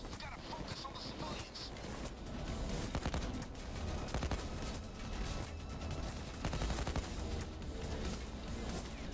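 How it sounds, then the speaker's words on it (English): Dense Payday 2 gunfire crackles continuously in rapid bursts at moderate distance, layered under game clutter and overlapping voices. "Someone's shooting me."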